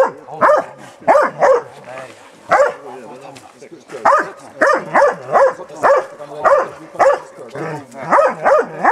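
A dog barks repeatedly during a bear test in Norway, a rhythmic series of loud, close barks and yips with a person speaking at times underneath.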